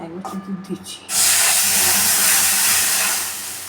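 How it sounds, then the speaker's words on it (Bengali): Milk is poured into hot ghee in a wok, setting off a sudden loud, broad hiss and sizzle that swells and holds for a few seconds before easing slightly, with faint clatter beforehand. "কড়াতে ঘি দিয়ে দিয়েছি। এবার আমরা এখানে দুধ দিচ্ছি।"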